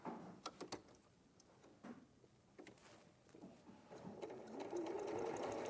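A domestic sewing machine stitches a patchwork garden-path quilt block in short bursts, with small handling clicks between runs and a steadier whirring stretch at the end.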